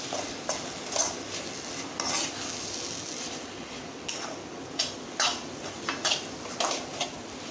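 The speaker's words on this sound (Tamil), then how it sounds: "நல்லா இதையும் இதில் கொஞ்சம் வதக்கணும் ஒரு நிமிஷம்." Onion, tomato and chilli powder sauté in a pan for an anchovy thokku, a faint, steady sizzle broken by repeated light scrapes and taps of a spoon stirring against the pan, with no voices.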